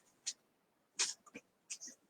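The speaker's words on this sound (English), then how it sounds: "some dog is growling. It's probably one of mine." A dog growls in short, separate bursts, with a few brief rough rasps close by and no talking over them.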